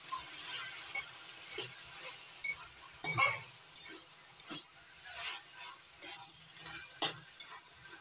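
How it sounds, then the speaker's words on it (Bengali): Prawns are stirred and tossed in a pan, with a soft sizzle underneath and a steady run of sharp spatula scrapes and clinks against the metal, close and fairly quiet, with no voices. "চিংড়ি মাছগুলো নাড়াচাড়া করে ভালো করে মিশিয়ে নিচ্ছি।"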